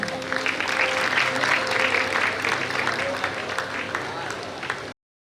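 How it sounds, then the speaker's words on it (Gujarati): Applause from an audience at a Kharva community student award ceremony, welcoming a representative collecting a prize: dense, steady clapping held for about five seconds, then cut off abruptly. "મિત્રો, એમને જોરદાર તાળીઓથી વધાવશું."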